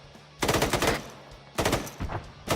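Bursts of automatic gunfire in the video game Arma 3 rattle out in three rapid volleys, loud and sharp with short gaps between them and no talk over them.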